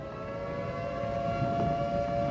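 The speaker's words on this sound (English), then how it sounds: "Air raid sirens cranking." An air raid siren cranks in a tabletop Delta Green game set in London, a steady sustained wail with a low rumbling undertone, loud and unbroken for the whole moment.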